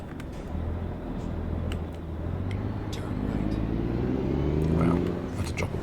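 A Mack 350 truck engine in American Truck Simulator pulls away in traffic, its low rumble rising and falling as it works up through the gears, steady and close throughout.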